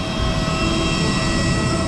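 A plane parked at a small airport in Borneo gives off a loud, close, steady engine drone with a broad roar. The sound holds even throughout, with no talking over it.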